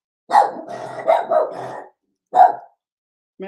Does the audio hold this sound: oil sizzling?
no